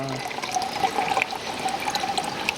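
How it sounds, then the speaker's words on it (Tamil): Water trickles steadily into a glass being filled to tune a jal tarang, with a thin ringing pitch that holds and shifts as the level rises, alone without speech. "முதல்ல இந்த கிளாஸ் கொஞ்சம் கொஞ்சம் விடுங்க"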